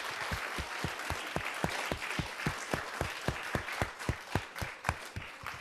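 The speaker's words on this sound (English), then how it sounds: "let's give one more round of applause for our wonderful LA Galaxy folks" An audience of children and adults applauds the LA Galaxy soccer players at a Let's Move! event, steady rhythmic clapping heard from a distance at a moderate level, with no speech.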